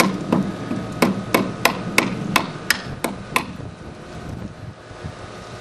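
Nails are pounded into a wooden board with a hard ball instead of a hammer, giving about ten sharp, evenly spaced knocks close to the mic before they trail off against faint wind-like background noise.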